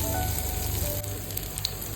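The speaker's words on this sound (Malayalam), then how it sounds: "നമുക്കിതൊന്ന് ഇനി വറുത്തെടുക്കാം." Marinated soya chunks deep frying in oil give a steady, close sizzle with light crackling, unbroken and without any voices.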